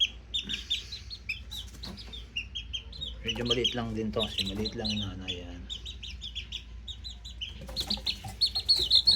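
Small chickens, including a hen with eggs and young chicks, cluck and chirp softly through the scene while someone talks over them at close range.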